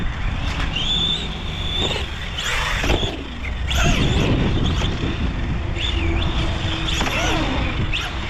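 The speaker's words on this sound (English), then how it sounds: "You can hear the slipper whining a little bit." A $330 brushless RC truck driving hard, its slipper clutch whining along with a continuous high motor whine and fluctuating pitched tones over loud steady rushing noise.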